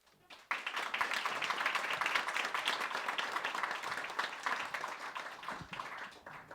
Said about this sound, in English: please give him a big round of applause, Marcelo.